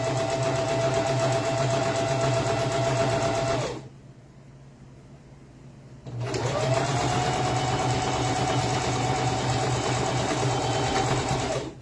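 Loud whirring sewing machine stitching a horsehair pageant bow, running steadily, pausing for about two seconds, then resuming the same even buzzing hum.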